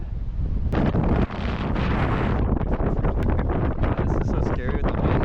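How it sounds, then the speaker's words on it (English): Strong outdoor wind buffets the microphone in loud, continuous gusts that roar and rumble throughout, with brief bumps and handling noises and a voice talking under it. "I feel like all you're gonna hear is wind on this shit."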